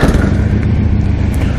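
A 2015 Harley-Davidson Ultra Low motorcycle in mysterious red sun glow, fired up indoors, gives a steady, loud low rumble with a dense idling chug and no voices.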